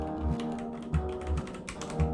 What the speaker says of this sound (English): When I start typing there, it won't let me type.